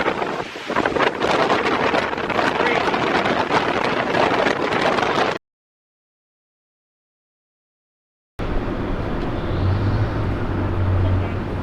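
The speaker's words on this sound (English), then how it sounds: "the wind is about 50 to 60 miles an hour" Strong wind of 50 to 60 miles an hour at Orange Rock roars and buffets the microphone, loud and continuous, broken by a silent gap of about three seconds before the gusting roar resumes.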